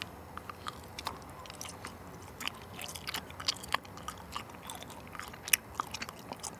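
Chewing on a chewy candied apple snack (sagwa jeongwa) in an outdoor eating show, heard close up as soft, sticky, irregular mouth sounds and small crunches with no talk.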